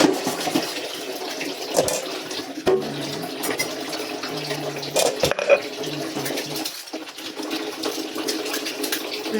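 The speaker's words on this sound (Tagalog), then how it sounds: "Presa sa maghugas" Water runs from a faucet for washing, a steady splashing flow near at hand with clinks and brief knocks scattered through it.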